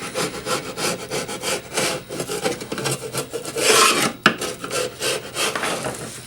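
Sandpaper rasps back and forth across a wooden beehive part in steady, close strokes, with a brief louder scrub partway through and a single sharp knock just after.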